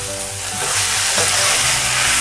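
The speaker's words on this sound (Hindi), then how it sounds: "अच्छे से मिक्स कर लूँगी इसको और फिर मैं इसको पकने के लिए रख दूँगी" Soya chaap masala stirred in a hot pan, with a steady close sizzle and frying hiss and soft scraping of the spoon, running continuously with no talking.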